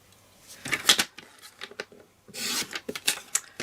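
Card stock is being cut for a concertina card, giving short, close scraping and rasping strokes in two brief bursts separated by a quiet pause, with no speech.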